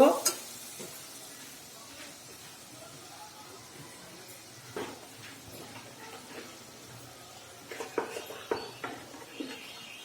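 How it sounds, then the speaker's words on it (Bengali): Spices loosened with a splash of water being sautéed and stirred in a pan, a low sizzle with scraping utensil strokes, quiet at first and then clustering into sharper clinks near the end. "এখন একটু সুন্দর করে কষিয়ে দেবো"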